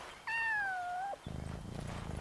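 A cat in the video game Yonder: The Cloud Catcher Chronicles gives one clear, drawn-out meow with a falling pitch, followed by soft rhythmic ambient game sounds.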